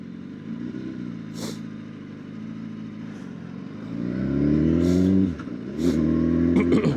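A 2016 BMW S1000RR Gen 3 sport bike's engine drones steadily while riding, then swells into louder rising revs as the throttle opens, dips briefly, and climbs again, close and continuous with rushing wind.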